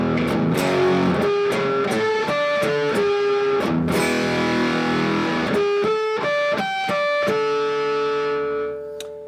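A distorted electric guitar plays a choppy 80s-style rock rhythm of short chords, then lets several notes ring out and fade at the end.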